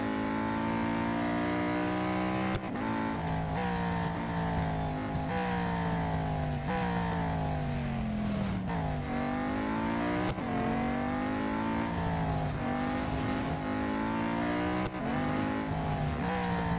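Race car engine in the Real Racing 3 mobile game during a weekly time trial, revving hard and continuously with repeated gear shifts as the pitch climbs and drops, loud and close with occasional tire squeal.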